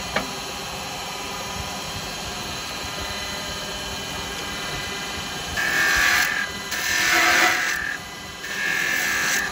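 Woodturning on a lathe with a carbide chisel cutting a small wooden ball, a steady faint whirring hum with rougher bursts of scraping cut partway through, close and without talk.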